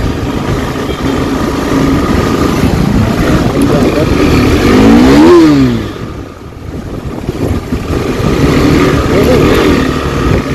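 A KTM RC 390 motorcycle engine runs loudly and steadily, rising in one sharp rev partway through, then easing back to a rough, continuous drone.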